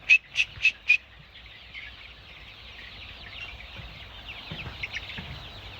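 Laying-hen chicks give four loud, sharp peeps in quick succession close by, then softer, steady cheeping and faint clucking continue in the background.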